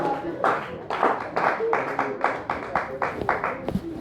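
A church congregation in Cameroon claps in rhythm, a steady run of sharp hand claps in close succession, with voices calling out over them.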